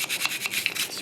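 A small brush scrubbing residue out of a Ruger 10/22 takedown rifle, a brisk close rasping in quick repeated strokes over about a second, with no speech.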